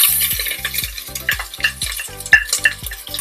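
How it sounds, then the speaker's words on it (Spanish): Onion added to a hot pot with a generous splash of oil, sizzling close and loud while a utensil stirs and taps in a steady rhythm, no voices. "Ha cogido calor la olla, así que vamos a echar un buen chorrito de aceite. Y vamos a añadir a esta olla la cebolla"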